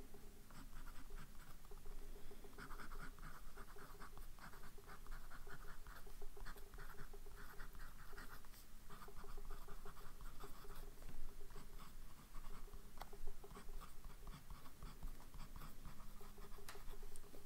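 A Pilot Prera fountain pen with a CM nib scratches across paper in quiet, irregular strokes, faint and close, with no talking.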